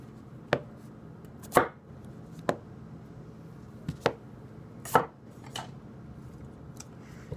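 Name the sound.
chopping potatoes with a Tanaka Ginsan gyuto knife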